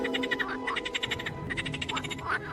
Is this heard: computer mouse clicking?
no